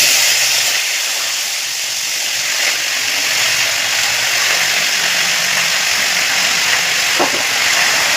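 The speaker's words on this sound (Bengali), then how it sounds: "এবার সবজিগুলো দিয়ে দেবো যেগুলো কেটে রেখেছি" Chopped mixed vegetables hitting hot oil seasoned with cumin and dried chilli, a steady broad sizzle and hiss filling the whole stretch, close and even with no talking.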